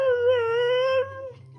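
A husky dog howls up close in one long, clear, wavering note that holds for about a second before tapering into a soft whimper.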